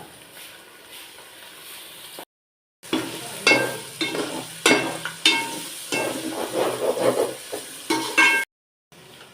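Coconut paste added to ginger-garlic paste frying in a pan, giving a loud crackling sizzle with repeated stirring scrapes, briefly cut by short silent gaps.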